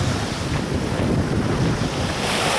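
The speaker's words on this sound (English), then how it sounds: "You can hear the waves. The waves are just stunning today." Ocean surf breaks on a sunny beach at Bradenton Beach, a loud, steady roar of waves mixed with heavy wind rumble on the microphone, with no voices.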